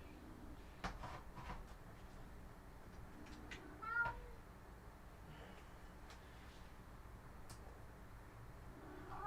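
A cat meows a few times, faint and brief, over a quiet electronic background hum with scattered clicks; no one speaks.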